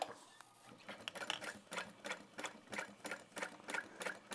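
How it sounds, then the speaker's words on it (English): Sewing machine top stitching along the edge of a tote bag, a steady rapid mechanical chatter in even pulses, close and moderately loud, with no talk. "I'm going to flip this and just carefully press that edge to top stitch."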